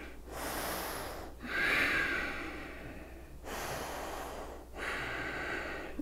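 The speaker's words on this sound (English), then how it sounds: "Nice deep breaths." Slow, deep breathing during a yoga practice, with long inhales and exhales that alternate in gentle, steady waves and sound close and fairly soft.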